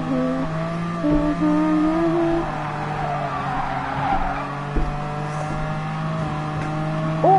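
Race cars in a Cars video game race roar steadily throughout, engines droning with tire squeals and skids rising over the pack, alongside game music tones; no speech.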